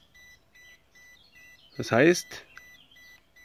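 A robot lawnmower signals an interrupted boundary wire with steady, repeating electronic beeps that are faint but clear. Someone briefly speaks over them partway through.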